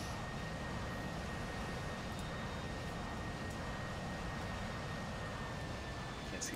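A jet makes another pass in a flight combat game, heard as a steady, loud broadband engine roar with a faint whine, constant throughout with no talk.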